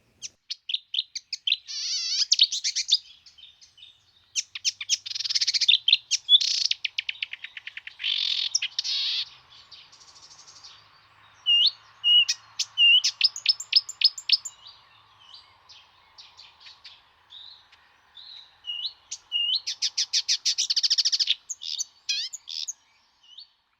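Marsh warbler singing a varied song built almost entirely from imitations of other birds, with quick bursts of chattering trills, whistles and chirps separated by short pauses, close and clear against a near-silent background.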